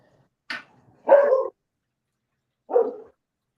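Dogs bark indoors in three separate bursts: a short high yip followed by two fuller barks, close and fairly loud with quiet gaps between them.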